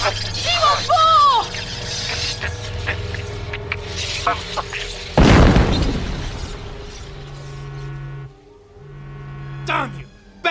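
A Dalek's special weapon fires in an audio drama: a loud, sudden burst that decays over about three seconds, followed by sustained mechanical hums and tones, with voices around it.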